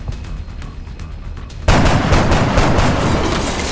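Gunfire in XCOM: Enemy Unknown breaks out suddenly after a quieter ambient stretch, then continues as loud, close, rapid overlapping bursts of shots to the end.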